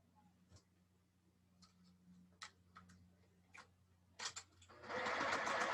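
Sewing machine starting to stitch a small quilt block, a steady close whir beginning near the end after quiet handling clicks and fabric rustles.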